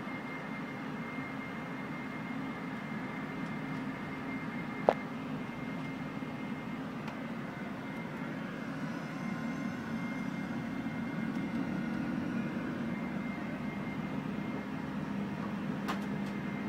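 Steady jet engine roar building for takeoff in a Boeing 787 Dreamliner flight simulator, a constant loud drone with a couple of brief clicks and no talking.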